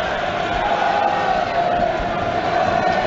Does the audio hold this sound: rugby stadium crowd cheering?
yes